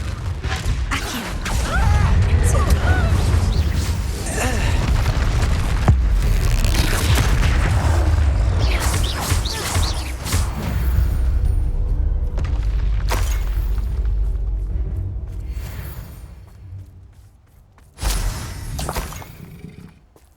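A Confringo spell explosion in the video game Hogwarts Legacy during a fight, with loud sustained booms, crashing debris and whooshes, then a sharp late blast.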